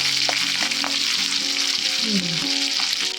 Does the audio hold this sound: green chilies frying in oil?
yes